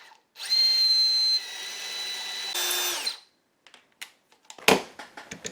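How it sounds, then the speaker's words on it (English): A power drill whirs for about three seconds, its pitch shifting as it pre-drills the end of a piece of wood, then stops, leaving a few small clicks and knocks. "now I need to pre-drill the ends of these"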